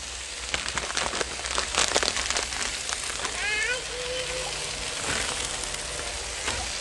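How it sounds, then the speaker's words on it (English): Cheese sizzles directly on a Blackstone griddle while a cheesy hashbrown casserole cooks, giving a steady close crackle with bursts of spattering as a person talks over it. "I'm cooking with a lot of cheese right now, and we're putting cheese directly on this griddle"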